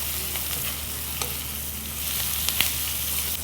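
Carrots stir-fry with brown rice tteokbokki in a pan, a continuous sizzle with occasional scraping clicks as the mixture is stirred, close and steady.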